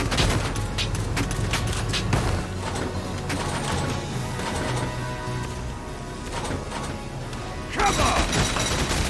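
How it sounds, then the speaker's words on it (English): Gunfire in a Valkyria Chronicles 4 skirmish among ruins: dense rapid volleys with crashing impacts and thuds, loud and continuous for most of the clip, with a heavier burst near the end over a busy battle mix. "They're firing at me! The enemy's returning fire!"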